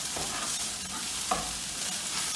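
A spoon stirs a leek filling seasoned with salt and black pepper in a pan, giving a soft continuous sizzle with a few scraping strokes. The sound is close and moderately quiet, and no one talks.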